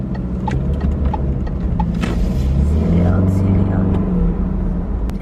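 Street traffic with cars passing, a loud continuous rumble of engines and road noise close by, with a rhythmic clip-clop-like clatter mixed in and a voice talking over it.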